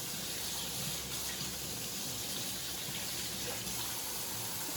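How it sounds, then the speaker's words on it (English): Tap water running steadily into a sink for hand washing, a continuous close hiss and splash with no voices. "need to wash my hands"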